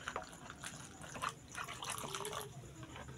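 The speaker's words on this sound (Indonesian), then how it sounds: "Lalu kita tuang santan yang tadi kita masak" Cooked coconut milk poured and stirred into flour batter for traditional Indonesian kue talam, a continuous close liquid pouring and sloshing sound with soft drips, fairly quiet and steady throughout.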